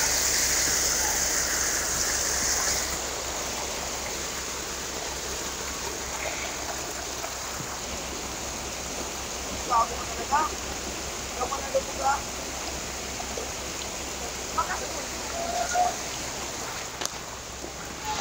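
Floodwater rushing like a fountain across the Regalado highway, a steady loud broadband roar close by with a few brief knocks and splashes, and no clear speech over it.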